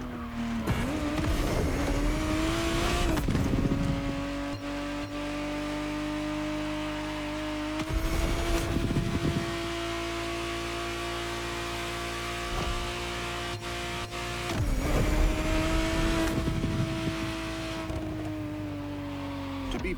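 A 1991 Ferrari 512 TR Testarossa flat-twelve engine in a racing game revs up through the gears in three loud surges, each rising whine broken by abrupt shifts and brief tire squeal, then settling into a steady cruising drone.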